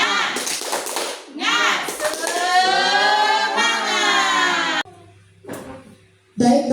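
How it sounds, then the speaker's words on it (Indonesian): A group performs a rhythmic Indonesian spirit clap before an activity begins, with a chanted, sung-along passage over clapping, then a quieter pause broken by a few isolated claps and a burst of sound at the end. "supaya lebih semangat, tepuk semangat dulu ya"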